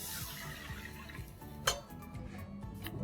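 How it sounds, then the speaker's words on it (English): A whisk beats a cornstarch sauce mixture in a bowl with a quick, steady scraping rhythm, faint and close, with one brief metallic clink partway through. "we stir this or whisk this once again"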